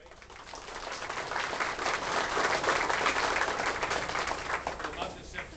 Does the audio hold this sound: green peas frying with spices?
no